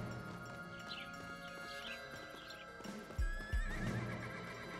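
A horse in the video game Desperados 3 whinnies in a high, wavering neigh, followed by a couple of heavy hoof thuds, with no one talking.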